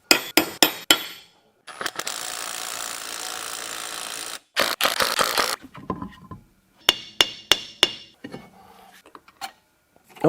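Wheel studs are hammered into a custom hub on an electric vehicle build: rapid loud metallic blows in bursts, with a stretch of continuous grinding-like scraping between, all close and without talk.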